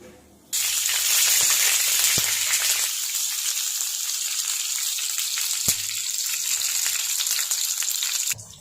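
Brinjal (eggplant) hits hot oil in a pan with a sudden loud sizzle that holds as a strong, steady frying hiss before cutting off.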